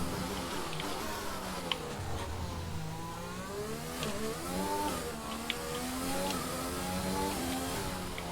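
A Formula 1 race car engine in the F1 2020 video game at the Monaco Grand Prix, a continuous whining drone that rises and falls as the car accelerates and shifts gears, with no talking.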